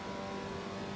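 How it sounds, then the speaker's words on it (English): An Alfa Romeo 125 race car in Assetto Corsa at the Nordschleife, its engine holding a steady, loud drone through a brief downshift, with no one speaking. "Shift down a gear,"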